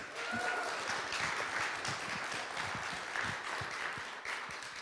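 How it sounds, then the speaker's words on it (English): A round of applause from the audience at a Rotary 4-Way Test speech contest, dense steady clapping throughout at moderate distance, with faint voices mixed in. "Round of applause for Mark"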